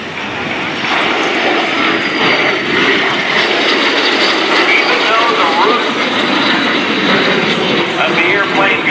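A fixed-wing military aircraft of Soviet origin, flown by the Warrior Flight Team, makes a loud, steady pass at the NAS Oceana airshow, its broad engine roar holding strong and sustained throughout, with a voice talking faintly underneath.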